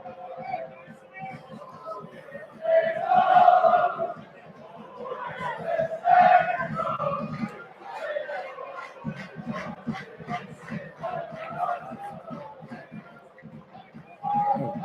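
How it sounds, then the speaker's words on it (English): Football crowd at Richmond Park for St. Patrick's Athletic against Bohemians, a moderate murmur of many voices with chants and shouts swelling now and then, heard from within the stand. "Decent crowd tonight, still coming in."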